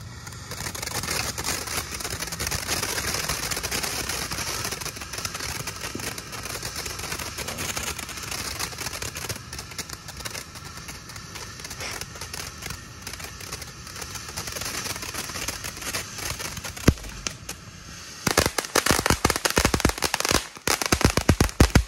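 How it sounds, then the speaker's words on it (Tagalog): A continuous hissing, spraying roar of a Phoenix Fireworks Lucky Mayon Volcano fountain being test fired, running for a long stretch, ending in rapid crackling bursts and pops. "Lucky Mayon Volcano by Phoenix Fireworks. Test fire."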